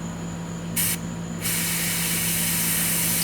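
A steady airbrush hiss sprays Hataka Orange Line lacquer neat onto a model aircraft, with a brief burst before settling into a constant, close, even spray of air and paint.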